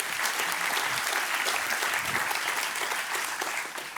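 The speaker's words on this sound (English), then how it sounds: "Let's give Hudson River Biotechnology an applause before we start." Audience applause at a startup demo day, dense and sustained clapping from many people, close and even in level, easing slightly at the end.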